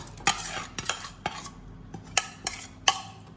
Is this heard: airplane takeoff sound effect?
no